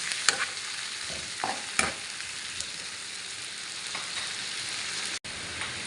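Chopped tomatoes sizzle in a pan of frying fish sarciado, with soft crackling throughout and a few clinking stirs of a utensil against the pan, heard alone and close.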